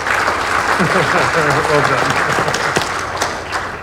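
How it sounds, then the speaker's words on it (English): Audience applause rings out for panel participants at an AUSA Hawaii military conference, a steady dense wash of clapping filling the room, with a voice speaking over it. "Let's give our participants a round of applause for those opening comments."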